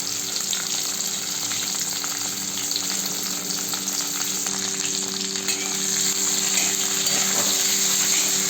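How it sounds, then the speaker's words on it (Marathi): Okra with curry leaves frying in a pan, a steady loud sizzle that runs unbroken throughout with no voices. "असंच फ्राय करत आहे थोडा वेळ।"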